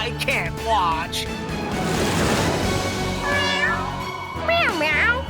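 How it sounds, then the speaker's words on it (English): A cartoon kitty character gives a few bright, rising meows amid an animated children's show, with other voices and noise around them; the meows sound voiced by a person. "Meow meow!"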